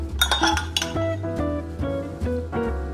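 Tomatoes, burrata, basil and a squeeze of lime tossed together in a bowl, with repeated clinks and scrapes of utensils against the dish over a low hum, close and fairly loud, no talking.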